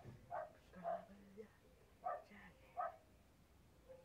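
A small dog gives several short, sharp barks and yips in quick bursts indoors, fairly close but not loud, with brief pauses between them.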